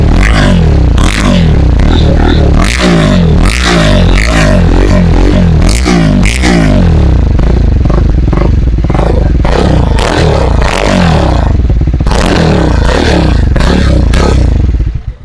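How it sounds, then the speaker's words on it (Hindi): Triumph Speed 400 motorcycle fitted with an aftermarket direct-fit exhaust, revved hard several times in close, loud bursts with a throaty rasp between throttle blips and no talking. "आप सुनते हैं इस एग्जॉस्ट की साउंड।"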